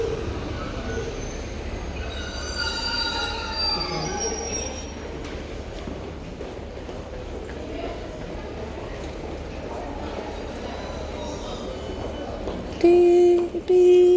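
A Class 156 diesel train rolls into a platform at Sunderland station, wheels squealing and rumbling steadily for many seconds, ending with a loud electronic beep tone; indistinct station sounds and possible voices sit faintly beneath.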